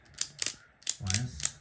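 A handheld wire stripping tool for model railway wiring works in a few sharp mechanical clicks and ratcheting snaps, close and fairly loud, with a short rasping grind in the middle.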